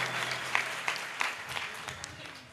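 An audience claps for a young child singer at a live Marathi music performance, a soft, steady patter of applause at a moderate distance with a few sharper claps standing out.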